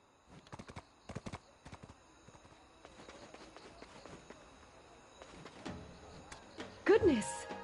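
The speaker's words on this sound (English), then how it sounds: "I want to make these horses happy." Horse hooves clip-clop in irregular bursts in Black Desert Online, fairly faint and close, ending with a brief whinny-like neigh near the end.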